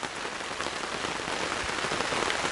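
Steady rain pattering on a surface while fishing, a dense continuous hiss of drops up close, loud and even throughout with no voices.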